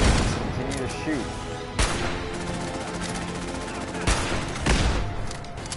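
Weapon fire in a Fallout game during a Brotherhood of Steel fight against an Annihilator sentry bot: dense, continuous rattling bursts with a few sharp, loud blasts, and a voice talking over the din.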